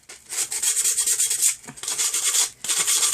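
Quick sanding strokes rub along the edges of a wooden box, a dense rasping scrape repeated in short rhythmic passes with two brief pauses, close and fairly loud with no talking.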